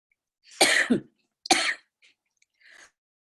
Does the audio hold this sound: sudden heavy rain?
no